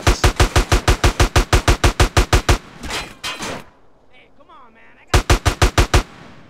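Rapid bursts of automatic gunfire from a shootout in GTA San Andreas, loud and close, with a short pause, a muffled thud and a brief voice before another quick volley.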